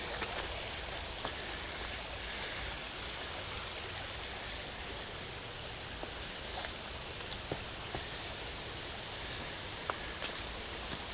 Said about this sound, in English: I'll step out of this creek.